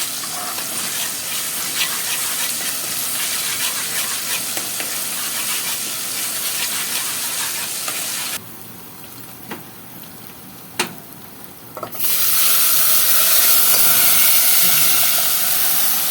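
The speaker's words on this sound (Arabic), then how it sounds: "نحمر بقى كده" Shrimp kofta frying in hot oil gives a loud, steady, dense sizzle that drops away briefly, with a few sharp clinks, then surges back as a strong hiss.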